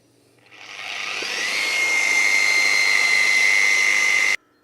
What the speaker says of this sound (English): So I'm using a very big mixer because it's very thick paint.